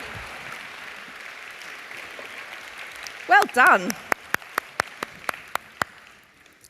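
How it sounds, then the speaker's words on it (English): A few people clap in scattered, separate claps that slowly thin out, following background murmur and a short spoken remark at a small audience gathering. "Big round of applause"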